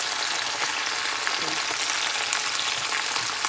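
Chicken and leek frying in a hot skillet, a dense, steady, close sizzle that holds at an even loudness throughout with no pauses.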